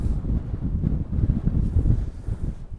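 Wind gusts buffeting a microphone at a wild camp near the Salt Cellar rock on Derwent Edge in the Peak District, a loud low rumble that rises and falls for a few seconds.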